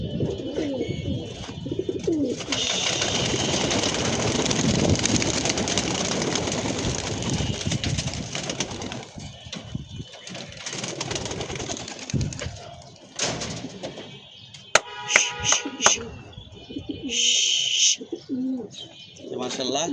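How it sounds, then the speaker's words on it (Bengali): Pigeons released from a rooftop loft take off, a dense rush of wingbeats and fluttering filling the middle stretch, followed by scattered coos and chirps with a few sharp clicks near the end; a voice talks faintly in the background. "তো চলেন কবুতরগুলা ছাড়ি, ছেড়ে কবুতরগুলা উড়াই"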